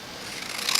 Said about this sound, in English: I'm just cutting off the white part of it